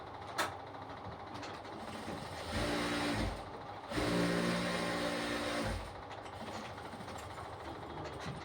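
Sewing machine stitching piping onto blouse cloth in a tailoring shop, two bursts of steady mechanical whirring with a pause between, faint and close against a quiet hissing background.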